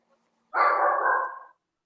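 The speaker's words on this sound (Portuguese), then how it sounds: "Eita, tem um cachorro aí." A single drawn-out dog bark, about a second long, comes through a video-call microphone as a clear, moderately loud sound against silence.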